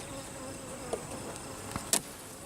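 Honeybees hum steadily around an open hive during an inspection of the brood chamber, with a few louder buzzes as single bees pass close by.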